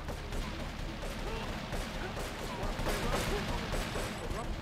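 Dense, continuous gunfire from the video game GTA 3, including shotgun blasts, forms a loud, chaotic barrage throughout. A voice is heard under the shooting.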